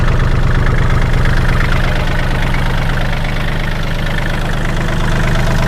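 A used 2008 Kubota L3408DT tractor's diesel engine idles steadily and close up, a loud, even low rumble with a rapid knocking pulse and no break throughout.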